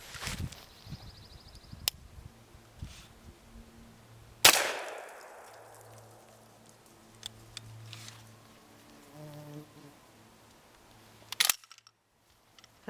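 A shotgun loaded with turkey load fires once outdoors at painter's tape stuck on left-out trash, a sharp loud blast with a decaying tail, with softer clicks and handling noises before and after.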